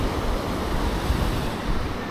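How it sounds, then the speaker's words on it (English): Ocean waves break on a beach at low tide, a continuous broadband roar of surf with slight swells and some wind on the microphone, close and steady throughout. "Right about where those waves coming in."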